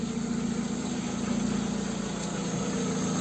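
A car engine runs steadily in first gear during brake disc work, a close, continuous low drone with an even vibration and no talk.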